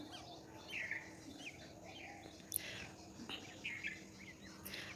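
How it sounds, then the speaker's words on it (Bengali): Birds call in the morning near a house, with a few faint scattered chirps and short tweets over a quiet background of insect hum. "তো আপনাদেরকে আজকে কিছু পাখির ডাক শোনাবো"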